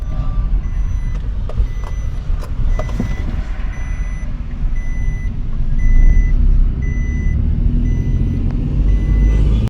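A lorry reverses with a steady, repeating reverse-warning beep over a loud, rumbling truck engine, close by and continuous throughout.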